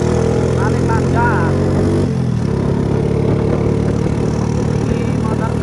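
A Honda Astra Grand motorcycle engine idles close by with a steady, even low rumble that holds throughout, with faint background sounds over it.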